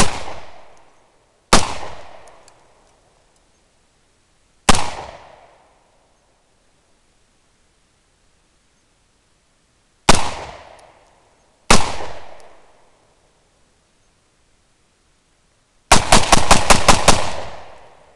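Six loud gunshots from an Olympic Arms AR-15 clone rifle ring out one at a time with pauses and echoing decay, ending in a fast burst of rapid shots fired close by.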